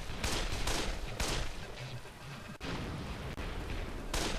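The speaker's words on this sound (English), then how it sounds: "Let me shoot him from here." Dense gunfire in the zombie game Dead Island, aimed at a final boss, pounds continuously as loud overlapping shots and blasts that fill the whole stretch.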